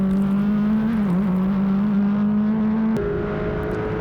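A Formula Regional race car braking into the Moss hairpin at Canadian Tire Motorsport Park gives a loud, steady, buzzing engine drone that wavers briefly and then jumps sharply in pitch with a gear change.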